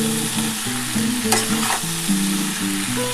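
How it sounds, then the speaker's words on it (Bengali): Onion and garlic fry in a pan for a Malabar spinach chorchori cooked with fish oil, giving a close, continuous sizzle with a few stirring scrapes, under background music and no talk. "আর এটা ভালোভাবে ভাজা করতে হবে, কারণ এর মধ্যে পেঁয়াজ আছে, রসুন আছে"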